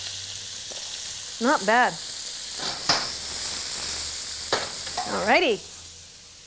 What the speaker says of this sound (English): And it's stir fry, but you don't really have to stir it.